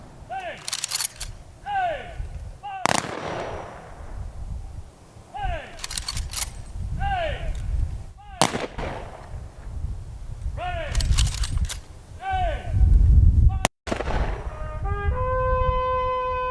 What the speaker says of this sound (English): After the 21-gun salute